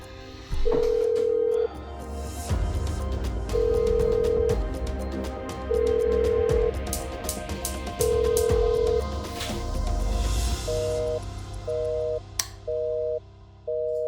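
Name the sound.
telephone ringing unanswered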